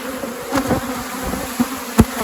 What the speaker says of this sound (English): This hive is absolutely overflowing with bees.